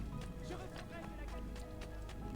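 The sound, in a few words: horse galloping in video game Assassin's Creed 2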